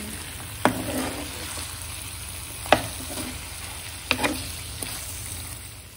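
Chicken frying in plenty of oil, a steady soft sizzle broken by a few sharp spoon knocks and scrapes against the pan, no talk.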